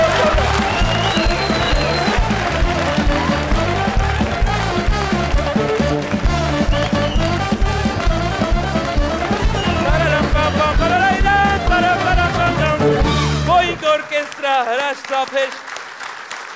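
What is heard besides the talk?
audience applause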